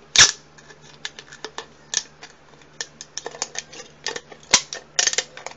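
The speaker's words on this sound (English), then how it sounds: "I'll try to use some scissors to start with that are kind of not my favorite." Scissors snip through craft material, a close series of irregular sharp clicks and cuts with a few louder snaps, over a faint steady hum from a nearby fan.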